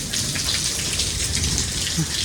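Steady, heavy rain hissing and pattering nearby, a dense continuous wash of drops with no pauses.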